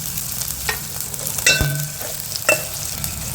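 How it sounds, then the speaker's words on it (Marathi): Chopped onion sautéed in a mustard-seed and green-chilli tempering for kande pohe hisses in a steady sizzle, with a few sharp spatula scrapes and taps against the pan. "थोडासा कांदा परतावा लागणार"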